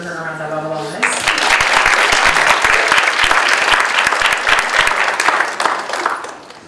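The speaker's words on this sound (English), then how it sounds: "could you give her a round of applause?" A nurses pinning ceremony fills with a loud round of applause, dense clapping from a crowd swelling right after a brief spoken line and holding steady for several seconds before tapering off.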